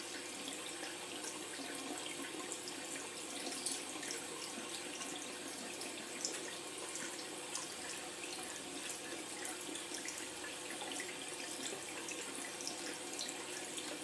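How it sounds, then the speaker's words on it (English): Makeup brush being dipped and rinsed in a container of water, with steady soft trickling and sloshing, fairly quiet and close, no voices. "so I tip it in the, dip it in the water again."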